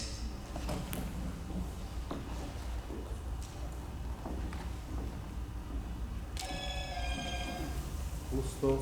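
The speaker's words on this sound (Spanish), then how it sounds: "Justo suena el celular." Mobile phone ringing during a conference, a clear repeating electronic ringtone that starts partway through over a quiet room murmur and faint background noise.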